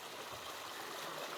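Water running steadily from two irrigation pipes on a village farm, a continuous rushing, gurgling flow heard close by with no talking.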